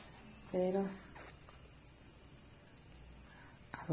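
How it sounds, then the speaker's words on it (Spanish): Crickets chirp at night in a quiet home setting, a faint steady high-pitched trill running under the whole stretch while a person speaks softly nearby in short bursts. "estaba escuchando a los grillitos"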